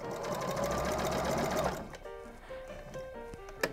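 A sewing machine stitching fabric for an apron runs steadily with a loud, close mechanical whir for nearly two seconds, then stops, leaving a few faint clicks and a soft tone.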